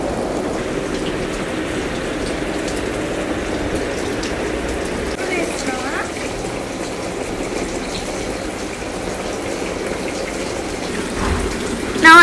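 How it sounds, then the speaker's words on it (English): Water sprays steadily from a children's water play mat fountain at full pressure, a continuous close hiss and patter of droplets lasting throughout, with faint voices in the background. "the pressure of the water is full, so the fountain is very high"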